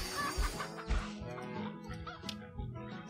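Cartoonish chickens cluck in the Hay Day farming game, with several short clucks and honking bird calls over soft background game audio.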